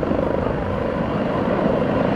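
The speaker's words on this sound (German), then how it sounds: "hast du denn Spaß mit deinem Helikopter?" Helicopter rotors thrum in the Warno real-time strategy video game, a steady, fairly loud whirring drone of blades and engine that holds evenly throughout with no talking.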